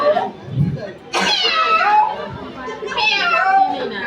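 A human voice imitates a cat meowing, with several drawn-out, wavering mews, close and fairly loud, amid other vocal sounds.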